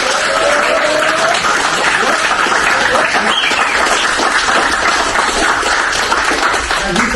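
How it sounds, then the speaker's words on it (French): A group of people applauds an MMA fighter during preparation for the world championships, with steady, dense clapping sustained at full volume from start to finish. "les gars, on peut l'applaudir déjà"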